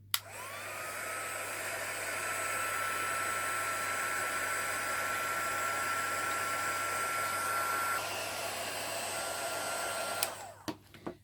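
A hair dryer blows with a steady, close whine and rushing air, its pitch dropping slightly partway through before it clicks off.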